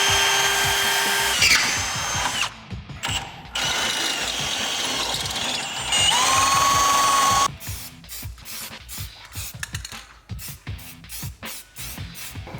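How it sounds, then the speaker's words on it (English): A power drill with a small bit bores pilot holes into a Jeep Wrangler JK frame, sustained loud whirring bursts at first, then a rapid stuttering series of short pulses. "we're going to go ahead and use a small drill bit to get a pilot hole, and then we're going to enlarge those with a step bit"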